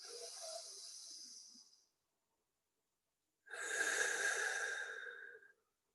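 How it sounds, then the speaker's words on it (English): Two slow, deep breaths in a relaxation workshop belly-breathing exercise, each a long airy hiss lasting about two seconds, heard close, with a silent pause between them. "Do the same breathing technique again, except try not to move the top hand"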